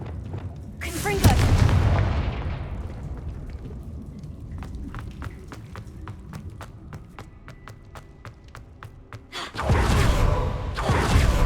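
Blasting-spell explosions in Hogwarts Legacy, with a heavy boom near the start and another near the end, and a spell of rapid crackling taps and debris between them, all loud and close.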